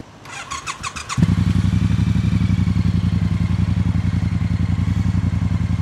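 A Triumph Bonneville motorcycle engine starting up after a brief clatter, then settling into a loud, close, steady throbbing idle with a rapid even pulse and no talk.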